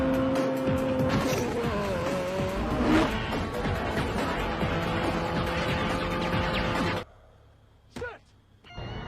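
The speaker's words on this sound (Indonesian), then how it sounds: "Brian mengetes mobil balapnya di sirkuit" A race car from Fast and Furious laps a test circuit, its engine roaring loudly with rising and falling revs and tire squeal for several seconds, then cutting off abruptly into near silence with a brief sharp noise.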